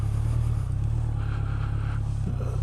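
An air-cooled Honda CB1100 motorcycle engine thrums steadily at low revs while riding, a deep, throbbing rumble heard close up with faint wind noise.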